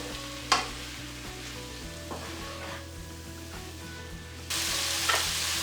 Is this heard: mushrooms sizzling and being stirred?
yes